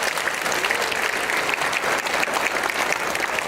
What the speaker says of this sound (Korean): 큰 박수로 우리 환영하겠습니다